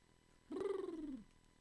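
A single drawn-out, low rumbling purr from a cat, lasting under a second, fairly close and steady, then quiet.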